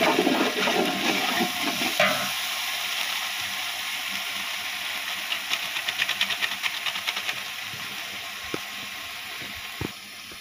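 Cumin powder and spices frying in hot oil in a pot for chicken Dhaka biryani, a steady close sizzling hiss with faint scraping stirs throughout.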